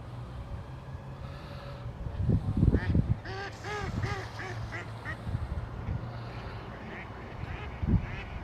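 Several ducks quack nearby by a bridge in an English town, a noisy burst of overlapping calls, then quieter with occasional quacks over outdoor background noise.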